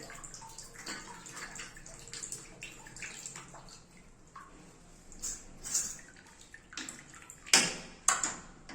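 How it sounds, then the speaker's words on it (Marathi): Water runs from a tap with a newly repaired spindle and no leak nearby, with uneven splashing and gurgling, growing louder in bursts toward the end; no talking. "पाणी चालू झालं, पाणी बंद झालं, पूर्ण क्लिअर आहे"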